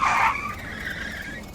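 A cart in the Roblox game brakes hard and skids, starting with a loud tire squeal that fades into a thinner, sustained screech.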